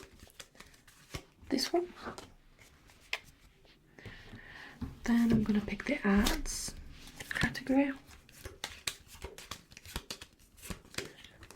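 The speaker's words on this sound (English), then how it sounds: "Something about shuffling cards as well that sounds so nice, I think." Quiz cards are handled and shuffled during an ASMR pub quiz, giving soft papery riffles and rustles in short bursts between quiet, close spoken remarks.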